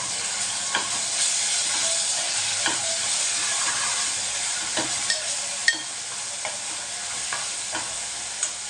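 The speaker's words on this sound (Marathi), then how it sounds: "आता मी वाटण टाकते बघा हा हिरवं वाटण टाकायचं आहे" Green masala paste hits a pan of frying fish gravy, setting off a steady hissing sizzle broken by occasional sharp clicks of stirring.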